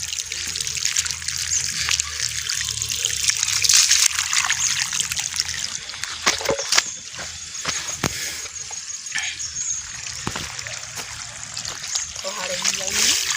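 Water trickles and splashes steadily for several seconds, a continuous close pouring sound with occasional drips and clatter, with a voice speaking over it.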